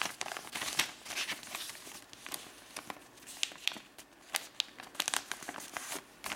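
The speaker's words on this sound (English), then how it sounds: "So now I need to fold the four corners inside this side." Low-quality paper being creased and folded into an origami penguin, a series of crisp crinkles and sharp rustling snaps at irregular intervals, close and fairly quiet with no talking.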